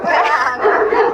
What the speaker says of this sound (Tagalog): yung mga aso ko nandiyan. oo nga, ang ingay na nila